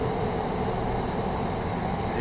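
Automatic self-driving metro train in Qatar running steadily, a continuous broadband rumble and rolling drone heard from inside the car, with no talk over it.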